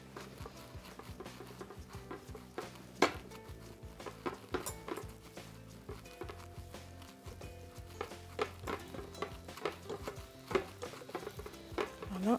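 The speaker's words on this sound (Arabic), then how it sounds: "نكمل نخلط هنا تاني، من الأحسن نستعملوا اليد" Dough being mixed and kneaded by hand in a home kitchen, with soft irregular squelching, slapping and patting strokes repeating steadily at close range, a few sharper knocks of the bowl along the way, and no talk.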